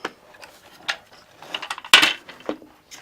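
A boxed 208-piece Hyper Tough rotary tool accessory kit is opened at close range, with scattered plastic clicks, rattles and one sharp snap as the case comes apart.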